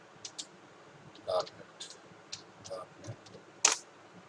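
A computer keyboard clicks in scattered quick keystrokes and short clusters, close and fairly quiet, ending with one sharper tap, with low background hum and no talk over it.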